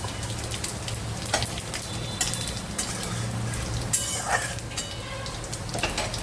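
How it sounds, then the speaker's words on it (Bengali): Cumin seeds and dried red chillies sizzle in hot oil, a continuous close crackle with scattered sharp pops and spits, heard alone without talk. "এবার এখানে দিয়ে দিলাম জিরে আর শুকনো লঙ্কা"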